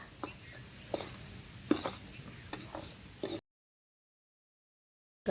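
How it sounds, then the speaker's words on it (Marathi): A spoon scrapes and stirs semolina into one-thread sugar syrup in a pot for rava ladoo. The stirring is close and fairly quiet, with soft knocks against the metal, then drops into silence. "आता हे चांगलं हलवून घ्यायचं"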